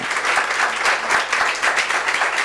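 A church congregation applauds a standing family, with brisk, even clapping from many hands filling the sanctuary throughout.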